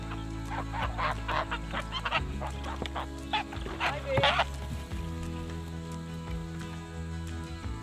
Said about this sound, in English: We've also welcomed 4 beautiful geese to the ranch.